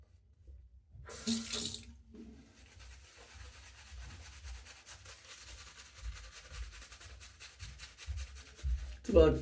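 Water running from a bathroom tap into a sink, a steady close hiss after a brief burst at the start, with rubbing sounds and a louder splash at the end.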